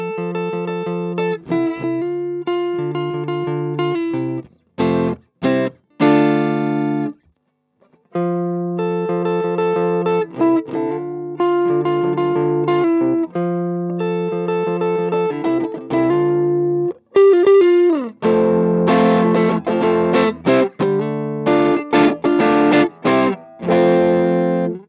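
An electric guitar with an overdriven, distorted tone played straight into an amp, strumming rhythmic chord riffs with short stops and stabs, growing denser and louder toward the end.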